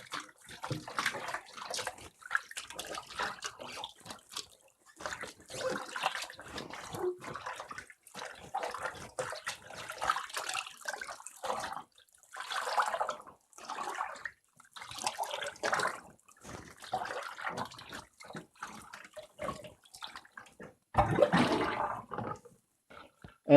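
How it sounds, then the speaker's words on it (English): Heavy wool pants hand-washed in a tub, water swished back and forth in bursts of sloshing and splashing with brief pauses between strokes, close and moderately loud, no talking. "swishing that water back and forth, and then followed by a kneading up and down"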